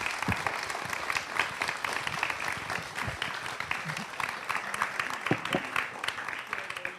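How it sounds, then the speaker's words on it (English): An audience applauds after a book talk on Lincoln, with even, sustained clapping across a hall, fairly distant and moderate in level, with a few louder claps standing out. "Can we give Harold and Jeffrey one more round of applause?"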